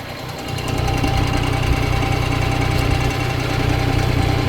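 A Kubota BX23D compact tractor engine idles steadily and close by, a continuous low chugging drone with a faint mechanical knock that holds an even level throughout, with no voices.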